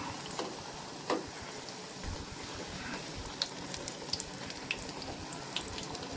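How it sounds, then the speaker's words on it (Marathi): Bhaji fritters frying in hot oil, a continuous crackling sizzle with scattered sharp pops, steady and close with no voices. "आता या पद्धतीनं ही सगळी भजी ही अशी आपण तळून घ्यायची."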